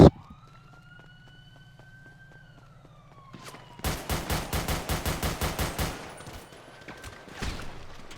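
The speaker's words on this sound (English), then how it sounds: "we got automatic gunfire" A rapid burst of automatic gunfire in a video game, about a dozen loud evenly spaced shots, following a rising siren-like wail and a low engine hum.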